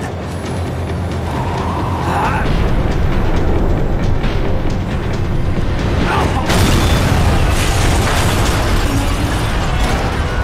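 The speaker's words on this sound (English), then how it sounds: "The tram was slowing down, and I'd only just gotten on board." Rumbling tram from the video game Max Payne 3 slowing down, a dense, loud mechanical roar of rail wheels and motor with metallic bursts and pops layered over it, running steadily throughout.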